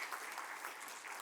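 A church congregation claps during a Sunday morning service, a brief burst of dense, even applause from many hands that sounds fairly soft and somewhat distant.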